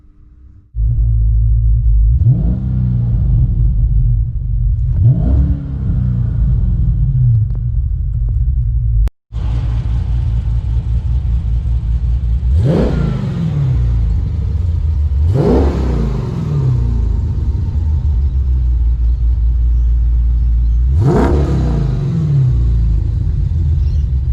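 Hemi 6.4 V8 with a stage 1 cam, loud and close, settling into a lopey, choppy idle broken by several sharp revs that rise and fall back, with a brief cut partway through.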